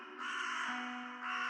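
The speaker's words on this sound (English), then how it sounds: "a flock of crows began gathering in the cornfield" A flock of crows in a cornfield cawing loudly and continuously, several harsh overlapping calls close by with no pause over the short stretch.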